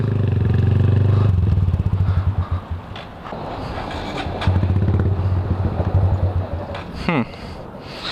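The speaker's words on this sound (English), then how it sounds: "when you ride such a small little bike" A small motorbike ridden through traffic, its engine droning close and loud, easing off and picking up again, with clattering thumps and a brief squeal near the end while a rider talks over it.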